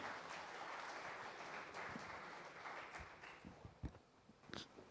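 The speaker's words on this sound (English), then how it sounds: "A huge round of applause, ladies and gentlemen" Audience applause at the DH Bengaluru 2040 Summit, a dense wash of clapping that holds steady and then thins into scattered separate claps near the end.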